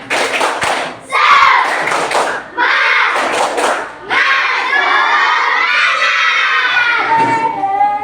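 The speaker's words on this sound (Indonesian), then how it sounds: "Tepuk semangat!" Third-grade schoolchildren in an Indonesian classroom shout and clap through the tepuk semangat chant, loud bursts of rhythmic clapping broken by short pauses, then a long chorus of young voices chanting together.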